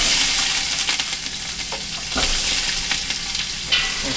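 Two onions sauté in extra virgin olive oil for a vegetable soup, a loud, close, continuous sizzle broken by intermittent spoon scrapes and stirring.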